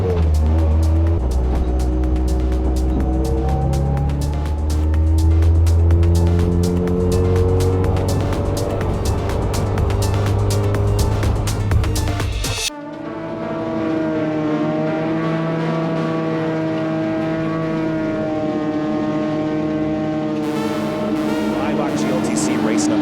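BMW race cars launch off the front row at the start of an Eibach GLTC race at Lime Rock, engines roaring loud and close with rising and falling gear pitches and an abrupt shift partway through, under a voice talking.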